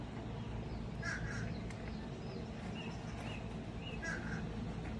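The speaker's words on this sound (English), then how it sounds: "You can hear the birds." Crows caw outdoors in a calm spot, a handful of short harsh calls scattered across the stretch. They sound fairly distant and faint over a steady low background hum.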